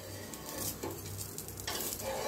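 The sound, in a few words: dosa sizzling as it roasts on a pan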